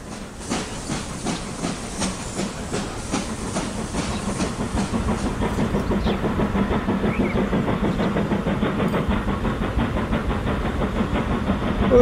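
An old train runs in the video game Transport Fever 2, giving a steady hiss with a fast, even clickety-clack of wheels that grows slightly louder toward the end, with no talking.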